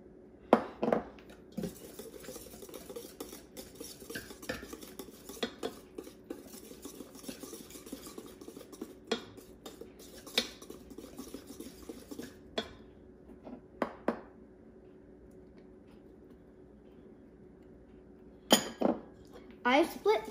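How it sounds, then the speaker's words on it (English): Flour being stirred into cupcake batter in a bowl gives soft continuous scraping, with sharp clinks of a utensil against the bowl scattered throughout, quiet and close. "Then we will start adding the flour slowly into the mixture and make sure to mix well."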